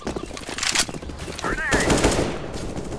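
Bursts of decoy grenade gunfire in CS:GO, crackling shots in uneven clusters at moderate volume, with a voice talking over part of it.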